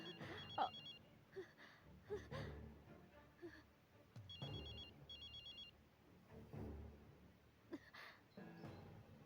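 A mobile phone that has fallen onto the ground rings, short bursts of electronic ringing repeating at intervals, heard faintly amid scattered movement and voices.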